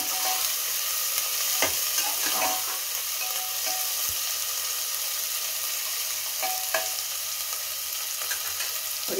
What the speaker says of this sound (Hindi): इसे हम फ्राई होने देते हैं, 2 मिनट